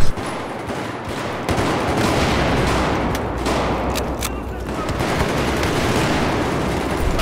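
Battlefield 4 firefight on Operation Locker, with rapid bursts of automatic gunfire, crackling explosive rounds and grenade blasts layered into a dense, loud, continuous barrage of combat noise.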